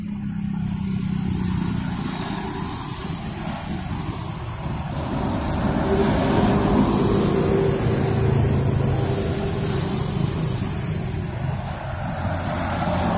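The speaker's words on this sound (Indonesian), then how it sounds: "di depan kita baru saja tiba bus Putra Remaja" A Putra Remaja bus pulls in on busy Jalan Soekarno-Hatta, its engine rumble building and holding close amid steady roadway traffic noise, with no talk.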